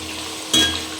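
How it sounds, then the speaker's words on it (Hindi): Chillies and potatoes frying in hot oil in a pan for a home-cooked parwal dish, a steady close sizzle that swells louder about halfway through and again at the very end, with no talking. "इसको फ्राई होने देते हैं अच्छे से।"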